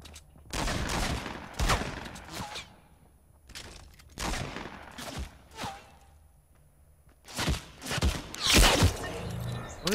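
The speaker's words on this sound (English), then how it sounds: "What are they shooting at?" Gunfire in a Fortnite Battle Royale squads match, with several loud bursts of shots and impacts in irregular clusters separated by quieter gaps.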